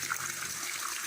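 A strong, steady rush of water pours continuously near a small backyard swimming pool, a broad hissing gush that stays even throughout with no voices over it.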